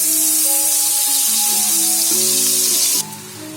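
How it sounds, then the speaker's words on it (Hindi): Ground chana dal fries with cardamom powder in a pan, giving a steady loud sizzle and some scraping of a stirring spoon, then the sizzle drops off abruptly near the end. "और इसको अच्छे से फ्राई कर लेंगे और साथ साथ चम्मच चलाते रहेंगे ताकि ये जल ना जाए।"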